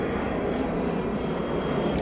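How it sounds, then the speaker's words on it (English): Airplane passing overhead above a suburban subdivision yard, a steady broadband engine roar that holds fairly loud and unbroken throughout, without voices. "Another plane."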